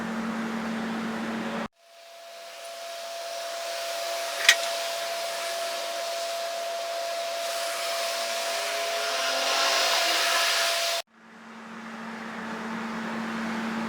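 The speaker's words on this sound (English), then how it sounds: "overlock serge that seam together" An overlocker sews a sleeve seam on a raglan top, a steady high-pitched motor whir with a faint mechanical hum running for several seconds, starting and stopping abruptly, with a brief click partway through.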